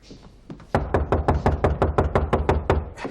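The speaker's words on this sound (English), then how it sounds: "Knock again." Knuckles rap on a door in a period drama scene: a few soft taps, then a loud, even run of about fourteen close knocks with no talk.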